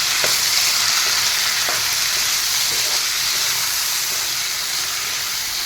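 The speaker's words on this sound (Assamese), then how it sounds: "তাৰপিছত এয়া ধনিয়াৰ গুড়ি এচামুচ দি এইখিনি অলপ কৰি লৰাই থাকিম মই" Chicken curry cooked with the skin on sizzles steadily in a pan as spoonfuls of cumin and coriander powder are stirred in, giving an even, hissing frying noise with faint, sporadic scrapes of the spoon.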